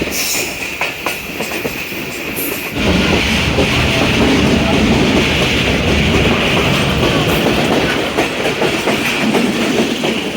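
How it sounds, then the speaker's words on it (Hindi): A train rumbles steadily over a bridge across the Jhelum river, a continuous loud roar of wheels with clickety-clack and faint squeal, growing heavier after a few seconds and running to the end. "ऊपर से ट्रेन गुजर रही है"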